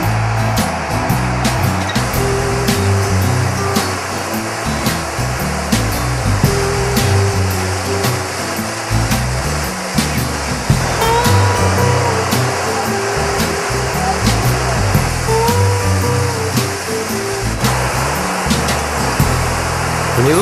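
Steady flowing water on a nature trail, a constant close broadband rush with faint birdsong-like chirps above it, no talk.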